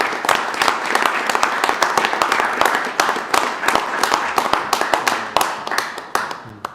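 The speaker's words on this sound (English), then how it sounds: "Can we just give them a round of applause?" An audience at a board meeting gives a round of applause: many distinct, sharp hand claps in a fairly dense, uneven patter that carries on for several seconds before thinning out at the end.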